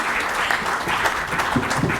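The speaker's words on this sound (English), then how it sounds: "A big hand of applause for her" Seminar audience gives a round of applause, dense continuous clapping close and loud for the whole moment.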